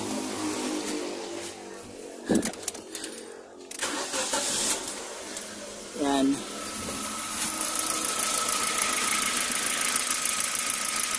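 A car engine cranks and catches partway through, then settles into a steady idle during a fuel pressure test, with someone talking over the engine noise.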